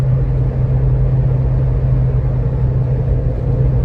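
An off-road truck fitted with Gyraline suspension drives along, heard from inside as a loud, steady low engine and drivetrain rumble with a constant drone and no speech.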